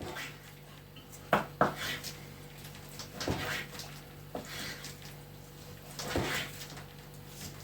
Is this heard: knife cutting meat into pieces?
yes